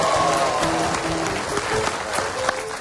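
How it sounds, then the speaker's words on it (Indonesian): Studio audience applause on a television talk show, a broad, fairly loud wash of clapping with some faint musical tones underneath and no clear speech. "tepuk tangan dulu dong buat Raja sekali lagi"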